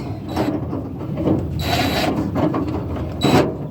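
A ratchet with a 1/4 inch head tightens a stainless clamp during a Ford Ranger tailgate repair, giving close, dense bursts of clicking and metallic rubbing with a few louder strokes.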